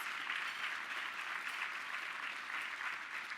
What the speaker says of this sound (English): So big round of applause for all of our sponsors.